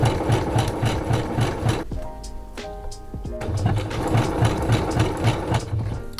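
A sewing machine runs a zigzag stitch over elastic on a lace bodysuit, a close, rhythmic mechanical chatter that pauses briefly in the middle for some clicks and shifting before the stitching starts again.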